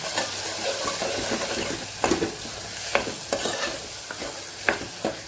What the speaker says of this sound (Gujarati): એક ચમચી જેટલું ધાણા જીરું પાવડર અડધી ચમચી જેટલી હળદર સરસ આપણે સાતળી લેવાની છે